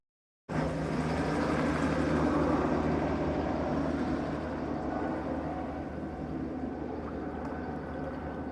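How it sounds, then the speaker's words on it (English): A search and rescue helicopter passes low overhead in a mountain wilderness, a loud, steady rotor and engine roar that swells and then slowly eases as it moves away, with no voices. "This search and rescue helicopter flew right above us while we were getting water."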